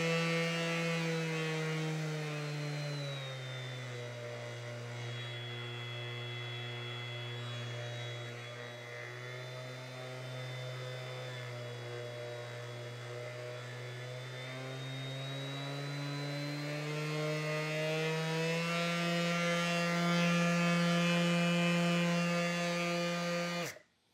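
DeWALT DCW210B 20V MAX XR 5-inch cordless random orbital sander running continuously, a steady buzzing whine that dips in pitch and then rises again through its speed range, close and even, with no talking.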